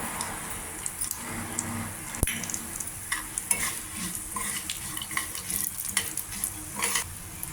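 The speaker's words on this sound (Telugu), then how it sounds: "కొద్దిగా వేయించుకోవాలి ఇలాగా బ్రౌన్ కలర్ వచ్చేదాకా కొద్దిగా" Sesame seeds and cumin sizzle and crackle in a hot pan while being stirred, with intermittent scrapes and taps of a utensil against the metal, close and steady.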